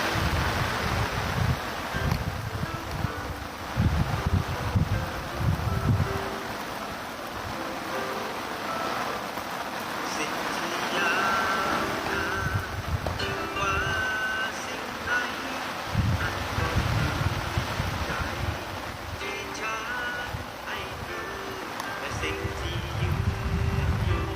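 Gusty wind during rain buffets the microphone with a constant roar and low rumbles, mixed with a steady engine-like drone; a voice talks briefly.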